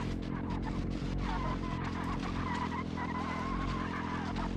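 Car tires skid and squeal in a racing video game with a damage model, over a steady engine roar with shifting tonal whines for the full clip, loud and continuous.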